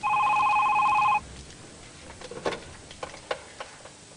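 A telephone rings with a steady electronic trill for about a second, then cuts off, leaving quiet room tone with soft clicks and knocks, as if the receiver is picked up.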